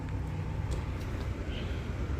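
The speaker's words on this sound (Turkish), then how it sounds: "Arabanın gürültüsü." Car noise recorded on a Samsung Galaxy S20 FE phone, a steady low rumble of passing traffic at moderate level, continuous and without voices.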